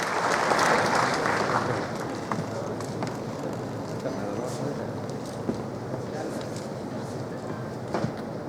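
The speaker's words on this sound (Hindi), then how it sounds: "जोरदार तालियों से स्वागत करें" A crowd at a seminar in Patna's Gyan Bhawan claps steadily and loudly to welcome the Chief Minister of Bihar, peaking early and then holding at a dense, even level.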